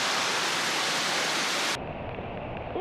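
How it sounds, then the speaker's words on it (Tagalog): A strong water current rushes at Sabangan Campsite in Malaybalay, Bukidnon, a loud, close, broadband roar that drops abruptly to a fainter, muffled wash near the end. "Grabe ka aslog sa tubig."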